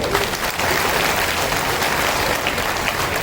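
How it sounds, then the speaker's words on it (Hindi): Loud, sustained applause from an audience at a gathering of Brahmin community representatives in Gwalior, a dense wash of clapping that fills the whole stretch without a break. "तालियों की गड़गड़ाहट होनी चाहिए।"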